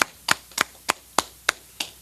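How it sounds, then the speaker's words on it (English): Rhythmic group clapping at a school class, eight sharp unison claps evenly spaced about a third of a second apart, close and clear with no talk. "let's clap it up"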